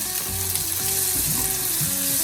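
Ground pork fries in a hot pan as tomatoes go in, a steady loud sizzle and crackle with soft stirring scrapes, close and continuous.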